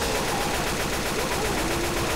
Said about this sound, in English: This is explosive ammo.